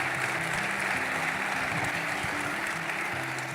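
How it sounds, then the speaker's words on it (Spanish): A church congregation applauds during a sermon in a continuous wash of clapping, with a low sustained organ or keyboard tone underneath. "denle ese aplauso al Señor"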